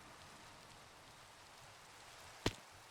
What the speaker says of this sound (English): Yeah, it's raining.